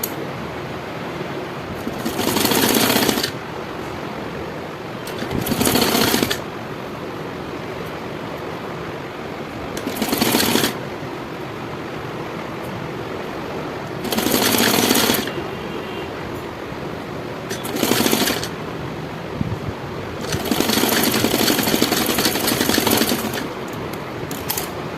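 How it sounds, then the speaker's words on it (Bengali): A sewing machine stitches a blouse neckline in five or six separate bursts of a few seconds each, with quiet pauses between them, close and moderately loud, no talking. "এটাতেও চাপ সেলাই দিয়ে নিচ্ছি।"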